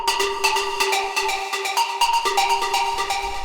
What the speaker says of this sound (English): So this is a really simple sort of progressive lead.